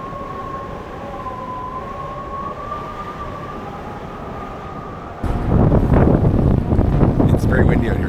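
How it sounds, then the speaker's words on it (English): Strong wind sweeps across a ship's deck on Stephen's Passage in Alaska, with a steady roar and a thin whistling tone before a sudden louder gust buffets the microphone with heavy rumbling noise. "It's very windy out here today. It's super windy, but it's fun."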